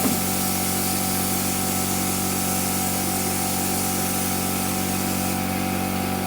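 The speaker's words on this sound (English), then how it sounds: "So you can see they're spraying that texture on the wall." Continuous loud hiss of a sprayer applying texture to a building wall, with a steady mechanical drone beneath it, unbroken from start to finish.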